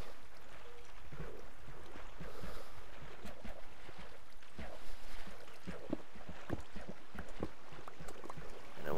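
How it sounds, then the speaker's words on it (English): Continuous soft splashing and sloshing water in Minecraft, a steady watery wash with scattered small splashes and no clear pauses. "It's a lot of splashing."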